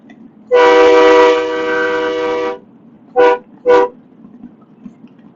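A truck's train-style air horn blasts one long, loud, steady chord for about two seconds, followed by two short sharp toots, all close and alone over faint road rumble.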